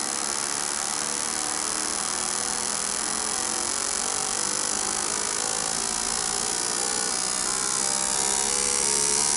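A Fiat Uno Fire engine that runs rough and misfires, out of timing, drones steadily and loudly for the whole stretch, a constant close hum with no pauses.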